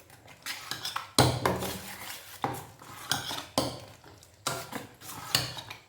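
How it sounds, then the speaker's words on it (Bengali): Boiled potato chilla batter is whisked in a bowl, each stroke a clattering knock of utensil against the bowl in an uneven rhythm of repeated beats, close and fairly loud with no voices. "একটু ফেটালে না এটা আরও নরম হবে, যার জন্য আমি একটু ফেটিয়ে নিচ্ছি।"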